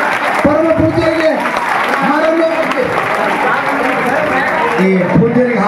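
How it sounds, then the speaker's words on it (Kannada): A crowd claps at a temple jatra festival ceremony in Basavana Bagewadi, with the applause running beneath loud, sustained voices that sound like chanting or announcing. "ಎಲ್ಲರೂ ಚಪ್ಪಾಳೆ ತಟ್ಟಬೇಕು."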